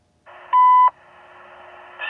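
A CN trackside defect detector at mile 185 near Napadogan sounds a short, steady electronic beep over a faint radio hiss, then the hiss continues before a louder burst of noise at the end.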